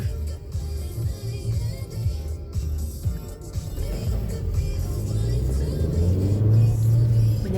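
A car cruising on a road on a scenic drive, with a steady low engine rumble and road noise throughout and a slight rise in engine tone toward the end. No talk is heard.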